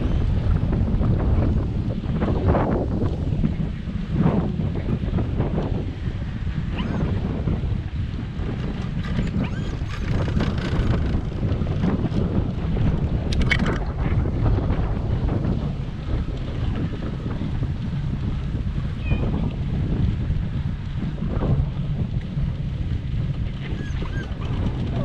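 Gusty wind buffets the microphone beside a seaside rock pool, a heavy, rumbling low roar that swells and eases unevenly, with scattered faint knocks and rustles.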